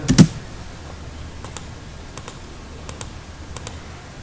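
Light, sparse key presses on a computer keyboard, scattered clicks spaced out over a quiet background after one louder knock at the start.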